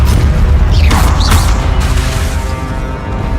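A Levioso levitation spell is cast in Hogwarts Legacy, a loud magical whoosh with a booming impact and brief rising sweeps, followed by a fading rumble.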